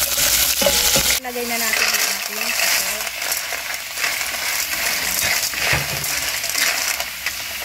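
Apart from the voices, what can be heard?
frying onion and garlic in pan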